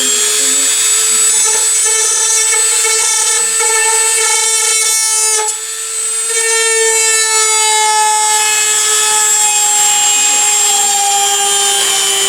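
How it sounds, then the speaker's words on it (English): A high, steady whine of a power drill boring with a drill bit runs continuously, dipping briefly midway before resuming at full strength. "I'm going to drill this next one with the drill bit here"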